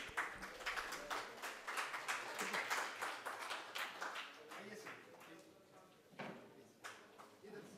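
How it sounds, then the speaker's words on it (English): A seminar audience at a session on organic farming claps to welcome a speaker. The scattered, uneven clapping is fairly faint and soft, and people talk over it. "Let us all welcome him with a big round of applause"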